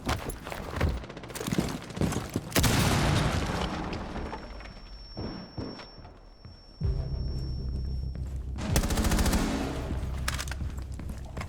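Rapid bursts of gunfire from an MP5K or AUG in a tactical shooter game, loud and dense with explosive booms, bursts coming in clusters over about eleven seconds with brief lulls between.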